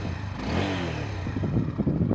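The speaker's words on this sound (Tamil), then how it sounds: "இப்போ வண்டியை வந்து நம்ம ஸ்டார்ட் பண்ணியுமே வந்து பார்ப்போம்." Honda CB300F flex-fuel 300cc motorcycle engine being started and revved, a short burst of mid-pitched engine noise rising and clattering briefly, heard close.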